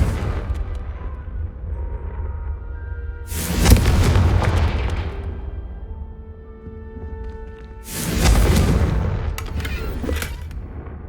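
Two big Confringo fire-spell explosions in Hogwarts Legacy, each a loud, close roaring boom that swells and slowly fades, a few seconds apart, over a low ambient background.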